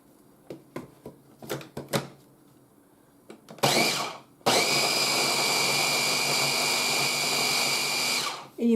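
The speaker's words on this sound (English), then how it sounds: "you want to blend this until it's nice and creamy and smoothie" A kitchen blender whirs loudly and steadily for about four seconds, blending ice cream with cottage cheese, after a short burst and some lid and handling clatter.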